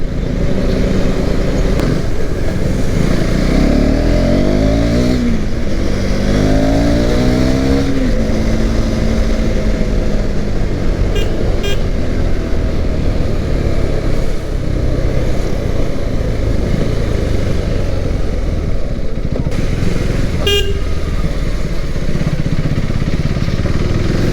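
A motorcycle engine drones loud and steady throughout as the rider shifts up through the gears with a quick shifter, the pitch climbing and dropping in several quick steps, with a brief sharp blip near the end.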